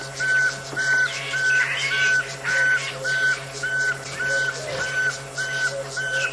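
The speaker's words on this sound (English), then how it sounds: "Now, that is the little pearl-spotted owl that you could hear whistling there." A little pearl-spotted owl whistling at sunset in an African game reserve, a series of clear, evenly spaced whistled notes repeating steadily at a moderate distance over a quiet hum of background noise.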